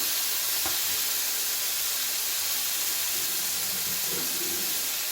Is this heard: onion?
yes